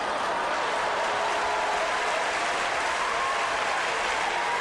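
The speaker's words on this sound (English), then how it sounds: "You got to bring your own applause" Steady applause fills the whole stretch at a moderate level, a dense even patter of many hands clapping with no breaks and no talk on top.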